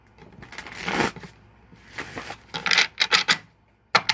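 Tarot cards are shuffled by hand in a few quick, rustling bursts with short pauses between them, close and fairly quiet.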